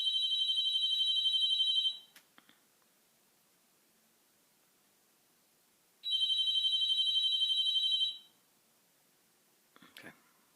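A home telephone rings in two long electronic bursts of about two seconds each, separated by several seconds of quiet, loud and close with no talk over it, followed by a brief faint clatter.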